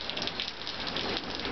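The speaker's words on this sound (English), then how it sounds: "Now we've got rain!" Rain falls steadily as a soft, even hiss of many drops hitting surfaces outdoors, fairly quiet and continuous with no voices or thunder.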